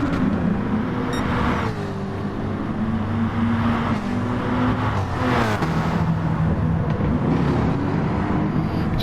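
Race cars, a Corvette among them, roaring along a track in a racing game, engines droning steadily and shifting pitch as they jostle for position, loud and continuous.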